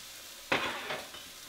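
Flour, baking powder and salt whisked together in a mixing bowl for biscuit dough: a brief burst of soft scraping and rattling strokes, close and moderately loud, with no talking.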